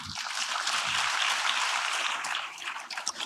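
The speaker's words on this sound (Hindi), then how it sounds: "आप सुन रहे हैं और आप उनके लिए ताली बजा रहे हैं" Audience applause rises and holds at a motivational talk for students, a steady wash of clapping from a crowd that thins out near the end.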